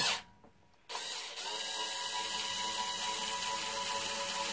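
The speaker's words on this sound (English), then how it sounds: "I'm going to use this little drill here I got with the string on it and I'm just going to unwind this thing" A small power drill whirs steadily with a high mechanical whine as it unwinds a guitar string, starting after a brief pause and running continuously, close up.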